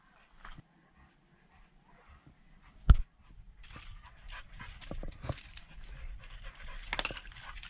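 A dog pants while climbing a steep side chute on an outdoor trail near St. Louis, quick soft breaths building after a sharp knock, close and faint with scuffing steps around it.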